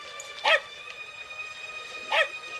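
Two short, sharp barks from a dog, spaced well apart, stand out against a quiet, hissy background with no talking, from a 1998 Western-themed family film.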